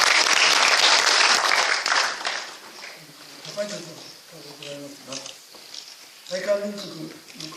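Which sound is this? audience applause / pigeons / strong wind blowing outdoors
audience applause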